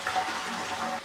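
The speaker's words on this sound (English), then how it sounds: "Push button flush." Push button toilet flush in a newish Travelodge hotel bathroom, a brief close rush of water lasting about a second.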